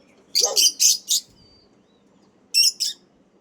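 A caged bird gives four quick bright chirps in a row, then two more after a pause, close and clear over faint background hum.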